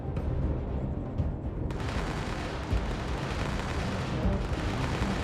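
Space-battle video game combat as a station's turrets are destroyed, a dense continuous roar of explosions and weapon fire that swells partway through, loud and unbroken with no talking.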